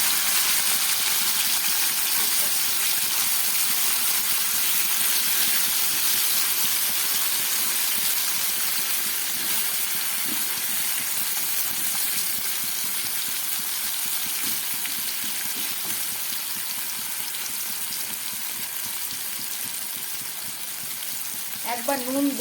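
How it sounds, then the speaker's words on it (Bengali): Boiled taro stolons fry in mustard oil with a loud, continuous, even sizzle and hiss that holds steady throughout, with a faint clatter at the very end. "এইবারে এই সিদ্ধ করা কচুরলতিটা আমি ভেজে নিচ্ছি।"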